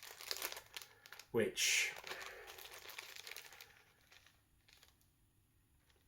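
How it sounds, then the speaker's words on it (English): A resealable plastic bag from action figure packaging crinkles and rustles in short bursts close by, with a sharper crackle partway through, while a person talks. "The bag it comes with is a resealable bag,"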